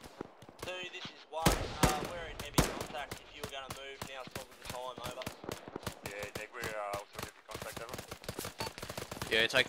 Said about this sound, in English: you're taking shots north-northwest, way up the mountain